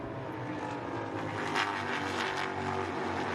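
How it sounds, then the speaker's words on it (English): Formula 4 race cars roaring around Canadian Tire Motorsport Park during the opening lap of a race: a dense, continuous engine drone with passing surges, steady and fairly loud, and no voices. "We are racing with Formula 4. F4 is out on track"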